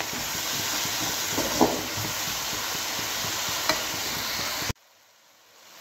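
Chopped tomatoes hitting a hot pan of onions for palak keerai sambar, a steady loud sizzle and hiss with a couple of stirring scrapes, cutting off abruptly near the end.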